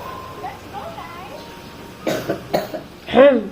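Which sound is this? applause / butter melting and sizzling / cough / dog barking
cough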